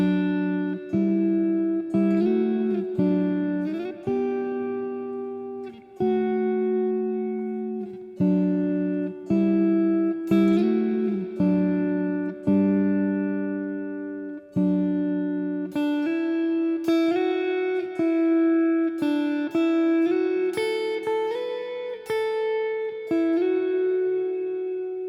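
An electric guitar solo with bent notes and quick picked runs, played alone with clear sustained tones and short pauses between phrases.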